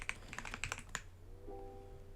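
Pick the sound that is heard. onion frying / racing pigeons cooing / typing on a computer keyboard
typing on a computer keyboard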